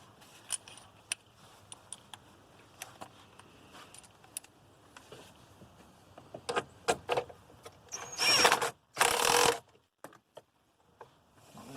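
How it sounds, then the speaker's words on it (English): A ratchet tightens a bottom bolt during a DiabloSport Pulsar install, giving scattered sharp metallic clicks at first, then a cluster of louder, denser ratcheting bursts close by. "I'm gonna install this bottom bolt here. Get it started."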